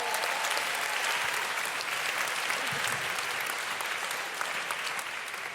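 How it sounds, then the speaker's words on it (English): Audience applause at a live comedy debate show, a dense, even wash of clapping from a large crowd, sustained and moderately loud with no talk over it. "And one more round of applause for our speakers"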